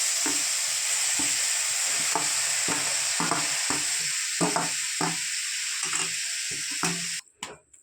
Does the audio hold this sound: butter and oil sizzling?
yes